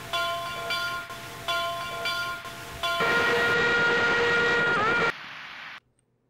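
A steam train in a video game runs with chugging rhythm and long tonal whistle-like tones, growing louder midway before cutting off abruptly into near silence.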